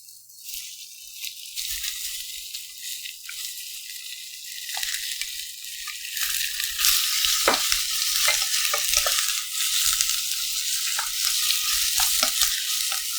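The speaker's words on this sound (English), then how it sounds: "Here, we will fry this pork." Pork hitting hot cooking oil in a pan as Korean kimchi stew begins: a faint hiss at first that swells into a loud, dense, continuous sizzle with scattered stirring scrapes, close by, and nobody speaking.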